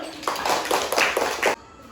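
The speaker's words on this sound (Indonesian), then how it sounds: "Iya, tepuk tangan dulu." A small group of students claps in a classroom, a short burst of quick, slightly uneven hand claps lasting about a second and a half before stopping abruptly, fairly close.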